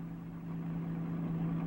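A car engine hums steadily at close range with a low, even drone, rising only slightly as the vehicle begins to move off.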